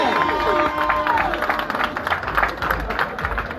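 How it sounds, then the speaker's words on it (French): Crowd at a political rally applauding and cheering, a dense clatter of clapping under shouts and crowd noise, with a voice audible at the start. "Tonnerre d'applaudissements pour monsieur le conseiller, s'il vous plaît."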